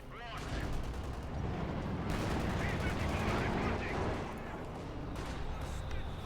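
Dense gunfire and explosions hammer away at a Panzer tank in the Company of Heroes 2 video game, a continuous loud battle din with rapid shots, while a commentator talks over it.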